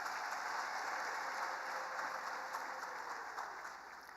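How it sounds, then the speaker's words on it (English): An audience applauds His Excellency at the official launch of the ZIFA Munhumutapa Challenge Cup, a steady, dense wash of clapping that holds fairly evenly throughout and eases slightly near the end. "May you please clap hands for His Excellency."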